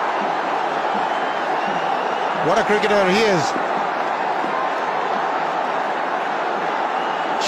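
A stadium crowd at a Bangladesh versus Pakistan cricket match on 6 August 2006 gives off a steady, distant roar, with someone commentating over it throughout.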